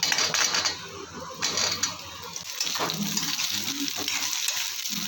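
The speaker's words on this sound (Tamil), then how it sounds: "முருங்காயை போட்டு இந்த மாதிரி நல்லா வதக்கிடலாம்" Pieces of drumstick vegetable sizzle and clatter in a hot pan as they're stirred, with scraping and a steady frying hiss throughout.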